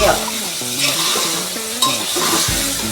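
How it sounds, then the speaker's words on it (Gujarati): Brinjal and potato curry with tomatoes and coriander, in Kathiyawadi style, being stirred in a hot pan: a steady sizzle of frying with scraping stir strokes throughout, close and fairly loud. "કોથમરી ટમેટા નાખીને મિક્સ કરી નાખ"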